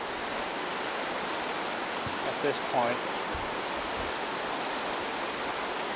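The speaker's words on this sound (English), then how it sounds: "the water is coming out of the main channel" 1992 Lytle flood water pours out of the main channel and over a diversion, a steady broadband rush that fills the whole scene, with a few faint spoken words over it.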